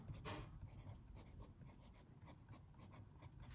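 A Platinum Prefounte fountain pen with a medium steel nib scratches across paper in short, close strokes, soft and quiet, with brief pauses between them.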